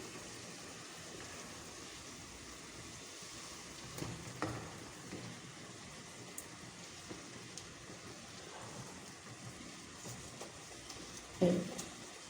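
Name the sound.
okra added to a frying pan of tomato keema, sizzling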